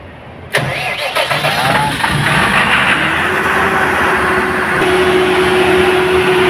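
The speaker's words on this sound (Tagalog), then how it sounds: "naririnig nyo, umaandar na yung ating generator" A large standby generator cranks with a sharp start, then its engine catches and settles into a loud, steady running drone close to the listener.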